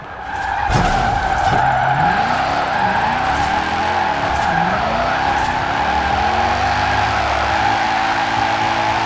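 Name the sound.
2010 BMW M3 GTS drifting, tires skidding, Forza Horizon 4 video game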